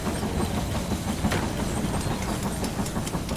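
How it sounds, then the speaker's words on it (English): A train rolls into a station in the video game They Are Billions, a steady low rumble with faint clickety-clack of wheels, continuous and moderately loud, with no talking. "Here comes that train."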